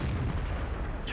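A tank cannon shot in World of Tanks, aimed at a well-angled VK tank, lands as a single dense low boom that fills the short moment with heavy rumble.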